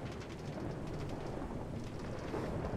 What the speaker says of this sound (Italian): Ma senti che tuono. Qua c'è un temporalone.